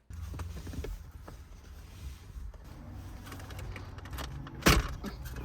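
Mazda RX-8 stereo head unit being pulled straight back out of the dashboard, giving soft plastic creaks and scraping under a steady low hum, then one sharp loud snap near the end.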